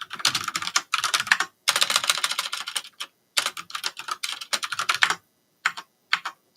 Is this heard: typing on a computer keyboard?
yes